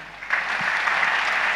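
Audience applause at an Islamic tabligh akbar gathering in Tawangmangu: a steady, dense wash of many hands clapping that swells just after the start and holds loud and even to the end.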